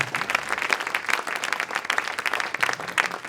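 An audience at an evening launch event applauds, a steady, dense patter of many hands clapping at moderate, fairly distant volume throughout.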